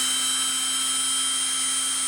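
A power drill whines steadily as it bores a hole through a thin metal can for a homemade penny stove, a loud, constant high-pitched tone with a low hum underneath.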